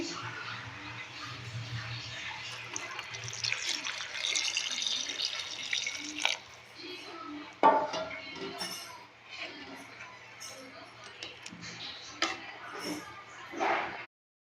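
Hot water pours and splashes into a pot of jackfruit curry, a running, trickling rush with occasional clinks of utensils and a low background hum.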